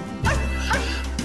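A dog at an animal shelter gives a couple of short, close barks and yips in quick succession, fairly soft overall, with nobody speaking.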